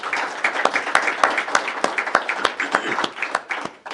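Audience applause following a STEM partnership event, steady crowd clapping with distinct sharp claps standing out, sustained for about four seconds at moderate loudness and tapering slightly at the end.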